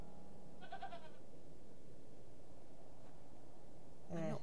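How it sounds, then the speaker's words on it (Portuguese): A goat in The Excavation of Hob's Barrow gives two short, moderately loud bleats, one early and one at the very end, with a quiet low ambient hum between them. "I'm not fond of goats at the best of times, but this one seems particularly disagreeable."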